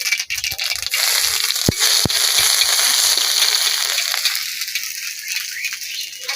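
Mustard paste and ginger frying in a hot pan, giving a close, continuous sizzle with a couple of sharp clinks from a utensil early on, the hiss gradually thinning toward the end.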